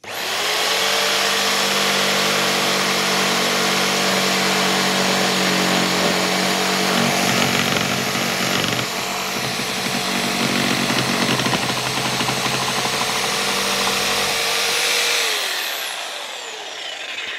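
A Bosch Pro GST 90E jigsaw cutting a 4.5 mm thick piece at speed setting 6, a loud, continuous buzzing motor drone with rasping blade chatter that runs steadily for about fifteen seconds, then winds down and stops.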